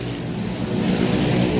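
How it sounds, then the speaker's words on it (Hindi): Steady roar of road traffic with motorcycles passing on a roadside in Sukkur, Sindh, Pakistan, a dense engine rumble that swells slightly louder midway, with no talk. "बहुत शोर आ रहा है मोटरसाइकिलों का।"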